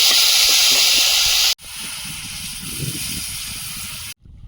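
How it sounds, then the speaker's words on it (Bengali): Water poured into a hot pan of sautéed ridge gourd and potato curry hisses loudly and continuously, a steady sizzle that stops abruptly, then resumes briefly. "সবজিটা কষানো হয়েছে এবারে জল দিয়ে দেবো"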